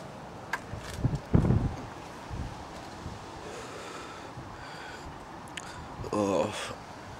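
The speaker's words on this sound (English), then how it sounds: "The wind's blowing me over." Wind gusts outdoors on a cold evening, a steady broadband rush with louder buffeting bursts across the microphone, while a person speaks briefly at points.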